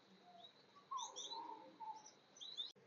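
Parrots chirp and whistle inside an aviary cage, a string of short, fairly close calls scattered over a steady background hum, with one sharp click near the end.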